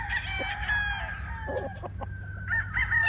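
A gamefowl rooster, an offspring of a Python Gray and Mel Sims Black cross, crows nearby in a loud drawn-out call. Other fowl cluck around it and a low steady hum sits underneath.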